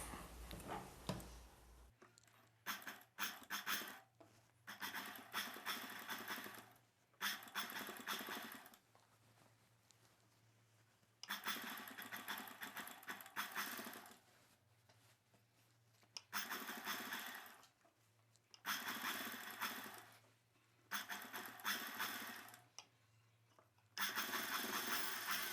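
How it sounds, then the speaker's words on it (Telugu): Sewing machine stitching thread piping onto dress cloth, a close rapid mechanical whir in repeated bursts of a few seconds each, separated by quiet pauses with a low hum. "ఒక కుట్టు వేసుకోవాలి."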